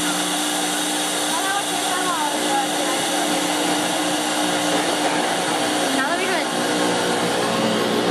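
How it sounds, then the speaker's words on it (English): A Chinese CNC router spindle runs at speed, a loud steady high-pitched whine with constant tonal hum and a slight pitch shift partway through, filling the whole stretch. "The spindle is work now."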